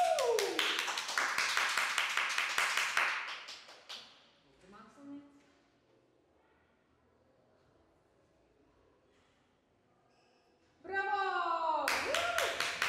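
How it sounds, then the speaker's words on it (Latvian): A small group at the Limbaži 3x3 camp gives a few seconds of quick, fairly close clapping that stops abruptly, followed by near-silence, a few soft knocks, and then voices talking. "Ar aplausiem sagaidām!"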